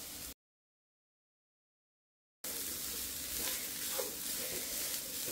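Grated coconut is stirred into pineapple cooking in a pan, giving a steady close sizzle and scraping stir after a brief silent gap, with no talking.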